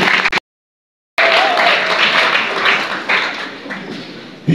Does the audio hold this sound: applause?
yes